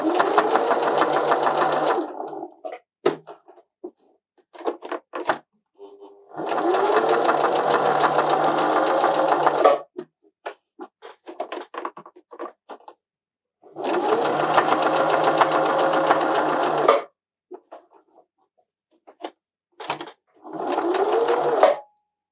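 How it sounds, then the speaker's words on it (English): Sewing machine stitching fabric at a medium stitch length: several loud, close bursts of steady rapid whirring, each a few seconds long, separated by quiet pauses filled with small clicks and handling noises. "I'm also sewing it on a medium stitch length"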